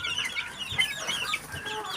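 White Kelso Sweater Asil chicks, being raised by a backyard breeder, give a constant overlapping chorus of high, thin peeping and soft clucking. The sound is close and moderately loud, with no speech over it.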